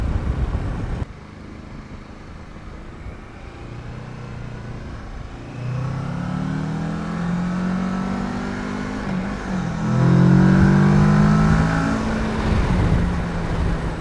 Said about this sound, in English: This engine sounds good.